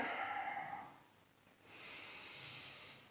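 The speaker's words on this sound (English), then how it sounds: "We're going to take a couple breaths." A person holding a yoga plank takes slow, audible breaths, a long breathy exhale followed by a steady airy inhale, close and soft with no talking.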